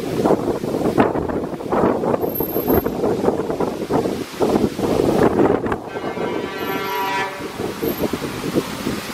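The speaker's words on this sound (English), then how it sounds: "It's very windy out here." Strong wind buffets the microphone outdoors beside a road underpass, a loud continuous roar with gusting surges, traffic noise mixed in and a brief horn-like tone near the end.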